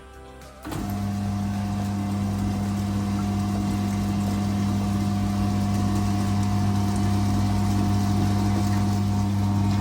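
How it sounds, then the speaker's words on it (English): Wet grinder churning soaked rice with about two cups of water into appam batter, a steady loud motor hum with a constant whir after a brief quieter start, running alone with no talk. "Now the rice is grinding nicely."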